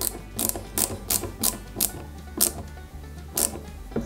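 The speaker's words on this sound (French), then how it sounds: "Et à l'arrière, on y met 2 vis à tête plate. Donc c'est 2 vis MM et on visse l'ensemble." Ratcheting screwdriver driving two flat-head screws into the rear of a 1/8 scale KITT Knight Rider Pontiac Firebird model, with about nine sharp, close clicking bursts in a quick, slightly uneven rhythm and no talk.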